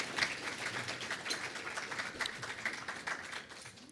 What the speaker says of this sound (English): Let's give her another round of applause for such a beautiful rendition.